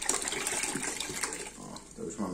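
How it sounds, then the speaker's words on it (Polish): Apple cider vinegar poured in a steady, splashing stream into a container, a close liquid gush that fades slightly toward the end, with no talk over it. "dolewamy następny litr octu jabłkowego"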